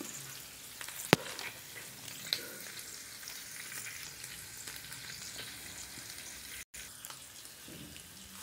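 Roasted chile, onion and garlic fry in a pan for a pork and guaje salsa, giving a steady close sizzle with a couple of sharp utensil clicks, no talking.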